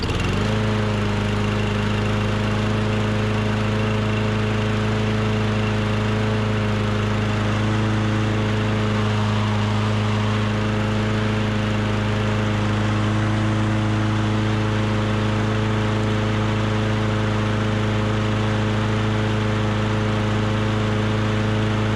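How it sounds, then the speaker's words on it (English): A Toro Recycler lawn mower engine, its carburetor issue fixed, runs steadily at a close, loud, even drone with a strong low hum that never lets up, and no talking. "well, mower runs great"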